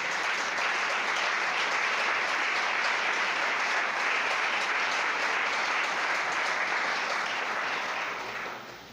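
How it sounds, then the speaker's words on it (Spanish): A church congregation at a women's seminar applauds loudly and continuously, a thick wash of many hands clapping for about nine seconds before tapering off at the end. "Fuerte ese aplauso para el Señor"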